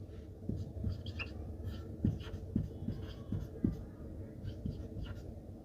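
Numbers being written on paper with a pen, giving close, quiet scratching strokes and light taps in an uneven rhythm, with faint background noise.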